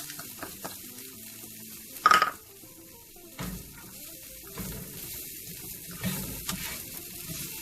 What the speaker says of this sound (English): So I just saute those onions until they're opaque.